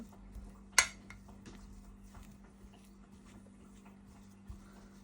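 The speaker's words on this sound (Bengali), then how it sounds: "এই কাটা চামচের সাহায্যে এটাকে ম্যাশ করে নিলাম" A fork mashes boiled, peeled potato in a quiet kitchen: one sharp metallic clink against the dish, then soft faint scrapes and taps, with another dull knock near the end.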